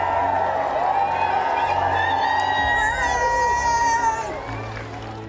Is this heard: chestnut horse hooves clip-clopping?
no